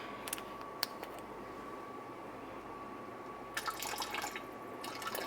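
Apple cider vinegar poured by the tablespoon gives faint, scattered drips and a soft trickle over a hushed room, with the liquid sounds gathering near the end.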